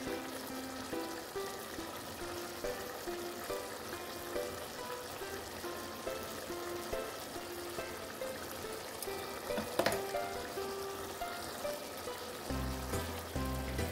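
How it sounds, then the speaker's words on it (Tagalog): Vinegar poured into a pan of sizzling adobong pork with string beans, a steady trickling, frying hiss filling the clip at a moderate level, with a brief clatter near the end. "Lagyan na natin siya ng vinegar"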